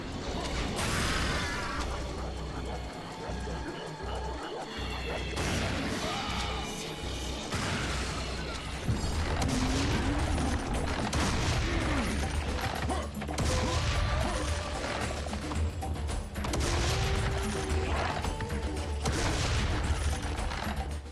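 Super shotgun blasting away in the Serious Sam video game, dense repeated heavy shots mixed with mechanical clanks and crashing effects, loud and continuous throughout with no talk.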